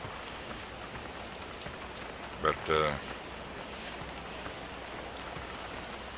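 Steady rain falling in a Farming Simulator 17 game world, a continuous broadband hiss of drops on surfaces filling the whole stretch, with a brief spoken word partway through.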